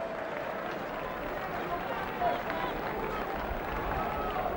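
A football crowd of just over 17,000 at Selhurst Park for a top-flight Crystal Palace match against Blackburn Rovers, a steady broad roar and murmur of massed spectators with a brief swell midway.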